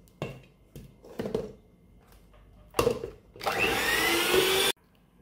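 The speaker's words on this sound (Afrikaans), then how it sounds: "So ek skrap op maar net die kante af en dan gaan ek hom net gou weer deurklits" An electric mixer beats peppermint tart filling, with short bursts followed by a louder, steady whirring run of about a second before it cuts off abruptly.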